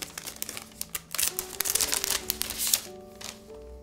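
Crinkly rustling and crumpling of keyboard plate packaging, close up, in irregular bursts with brief pauses; a faint steady tone hums underneath.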